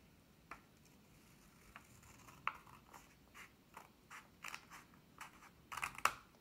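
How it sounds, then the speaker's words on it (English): Scissors snip along the fold line of folded paper for a homemade zine, making faint, irregular crisp cuts and rustles. The sounds come close and quiet, growing busier toward the end, with no talk. "We're going to follow that with the scissors."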